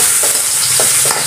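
Garlic and ginger being stirred in a hot pan while frying, a steady sizzle with a few short scraping strokes of the spoon, close and alone.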